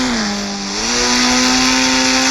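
A motorbike engine in the mobile game Indian Bike Driving 3D holds a steady, loud, high whine at speed. The pitch dips briefly and then settles back.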